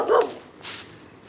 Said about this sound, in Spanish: Tenemos el perrito que, como siempre, que trata de masticarnos